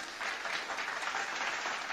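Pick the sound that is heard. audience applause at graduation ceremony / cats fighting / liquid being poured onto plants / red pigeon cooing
audience applause at graduation ceremony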